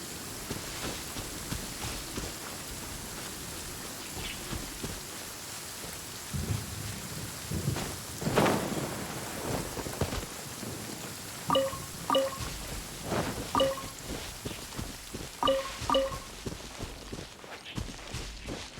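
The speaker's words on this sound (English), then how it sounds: "The rain has stopped." Rain and thunder in the video game Genshin Impact: steady rainfall with deep rolling thunder rumbles, while light footsteps and short chiming game sounds repeat in the later part.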